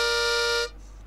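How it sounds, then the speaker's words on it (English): A single harmonica note blown into hole 4, a steady bright reedy tone held for about two-thirds of a second and then cut off, close and fairly loud with nothing else playing. "now I'm blowing into 4"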